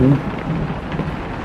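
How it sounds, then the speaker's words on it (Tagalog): Steady heavy rain hisses close by, with a low rumbling undertone. "Ulan na naman."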